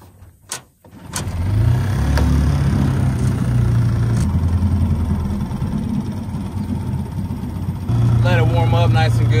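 A small outboard motor on a jon boat starts up and then idles steadily in neutral to warm up, a loud, even low hum running throughout after a couple of sharp knocks at the start.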